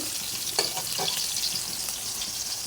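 Pieces of pointed gourd frying in oil in a pan, giving a continuous close sizzle with a couple of soft stirring scrapes early on.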